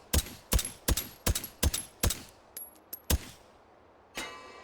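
Suppressed gunshots from a newer Italian firearm fired at a metal gong, about nine sharp cracks in an uneven rhythm, the last followed by a faint metallic ring.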